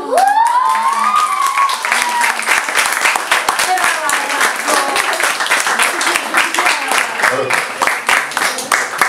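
Applause from an audience after a magic trick, dense clapping and some cheering that swells and keeps going, with voices calling out over the top and a rising shout at the start.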